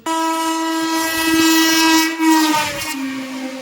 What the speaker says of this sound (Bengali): যাচ্ছি আমরা পুরীতে তাও আবার লোকাল ট্রেনে করে